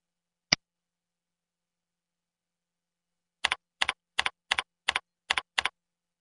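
Keystrokes on a computer keyboard entering a username: one isolated click, a pause, then six quick paired taps in an even rhythm, close and crisp against silence.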